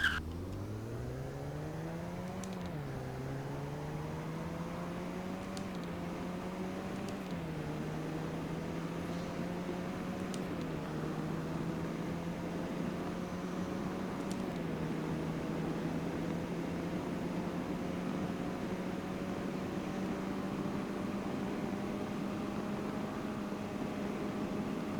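A Roblox Greenville car engine revs steadily upward through several gear shifts during a top speed run, its tone dipping briefly at each shift and then climbing again. The drone is continuous and alone.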